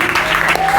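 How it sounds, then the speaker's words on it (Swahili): A church congregation applauds a sister, a short burst of dense clapping heard close and loud. "Nina makofi kwa dada yetu."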